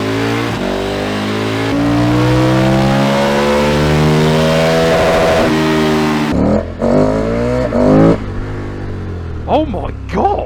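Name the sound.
KTM road motorcycle engine revving loudly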